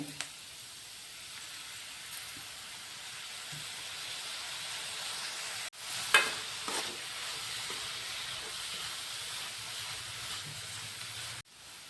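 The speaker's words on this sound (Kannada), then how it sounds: "ಕ್ಯಾಪ್ಸಿಕಮ್ ಒಂದು ಉದ್ದುದ್ದು ಹೆಚ್ಚಿಟ್ಕೊಂಡೆವು, ಅದು ಹಾಕ್ತೇವೆ. ಎಲ್ಲ ಸ್ವಲ್ಪ ಫ್ರೈ ಆಗುತ್ತೆ." Capsicum and other vegetables for veg fried rice fry in a pan, a soft steady sizzling hiss at a distance with a couple of sharp clicks and brief spatula knocks, no speech.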